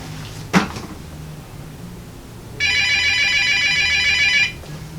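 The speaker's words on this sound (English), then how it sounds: "That's just a phone ringing." A telephone rings once in a steady electronic burst of about two seconds, preceded by a short knock, with a quiet room before and after.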